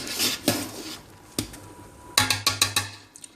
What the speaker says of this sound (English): You do not want it to burn on the bottom of that pot. So constantly stir it.